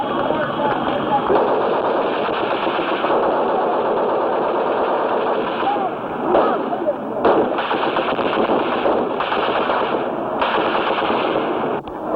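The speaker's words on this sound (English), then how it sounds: "Firing this machine gun." A Marine machine gun fires long sustained bursts near an expeditionary airfield at Chu Lai in 1965, loud and rapid with brief pauses between strings of shots, with voices mixed in.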